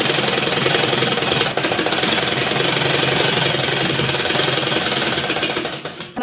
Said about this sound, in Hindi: अपनी कॉलर को यहाँ से इस तरह से बराबर से रखते हुए इस तरह से सिलाई लगा लेनी है